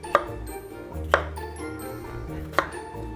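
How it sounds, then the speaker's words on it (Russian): Knife chopping potatoes on a board for soup: three sharp, separate cuts about a second apart, close and clear over a low kitchen hum. "Но вот картошку придется порезать."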